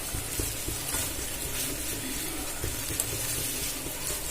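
Bread snack frying in oil in a home kitchen, a steady soft sizzle with faint stirring clicks, continuous and moderately close with no voices.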